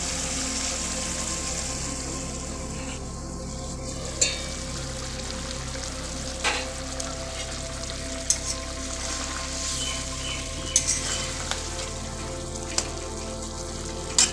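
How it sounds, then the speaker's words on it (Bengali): Vegetarian mock-fish curry gravy bubbling under a lid on a low gas flame, giving a steady soft sizzle and hiss with scattered small pops and ticks, close and continuous, no voices. "ঝোলটা ফুটে গেছে।"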